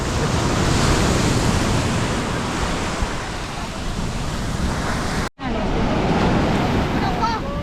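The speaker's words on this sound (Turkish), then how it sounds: "Bakın nasıl dalga geliyor." Rough sea waves roll and crash continuously on a beach in Cancún, Mexico, in a loud, rushing wash, with wind buffeting the microphone and a brief dropout near the end.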